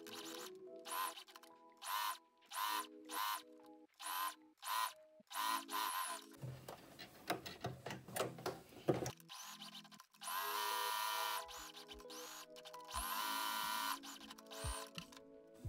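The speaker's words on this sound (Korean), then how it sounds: "끝스티치 봉제합니다." Sewing machine edge-stitching a fabric Christmas ornament, running in short whirring bursts with pauses, then a longer continuous hum, close and quiet.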